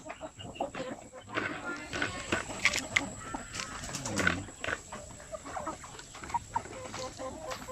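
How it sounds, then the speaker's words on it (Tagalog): Native Zampen chickens and chicks cluck and peep in a busy, uneven chorus at close to moderate distance, with overlapping calls and some background noise. "Lahat ng mga yan ay mga pure sampin po yan, mga native chicken"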